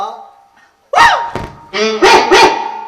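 A dog barks several times, loud and close, in a few quick yelping bursts after a moment of quiet, with voices and a dull thunk mixed in.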